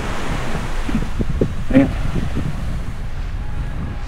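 Strong surf breaks steadily along the beach at San Juan, La Union, a constant wash of heavy waves mixed with wind buffeting the microphone, with people talking over it.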